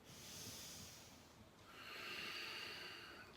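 Firm, deliberate breaths rush in and out during a breathing exercise, two long airy swells close to the mic with no speech.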